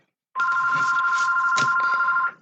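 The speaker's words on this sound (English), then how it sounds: "excuse the phone ringing" A house phone rings in one continuous electronic trill lasting about two seconds, loud and close, with no talking over it.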